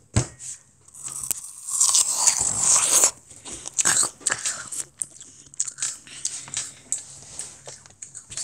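A giant apple being bitten and chewed up close, with crisp, juicy crunches in an uneven rhythm; each sharp bite is followed by softer wet chewing.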